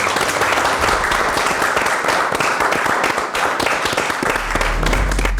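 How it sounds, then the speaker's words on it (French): Loud, dense applause fills the room from an audience after a pitch before a jury, a steady wall of many hands clapping close by with no speech over it. "Merci de les applaudir encore."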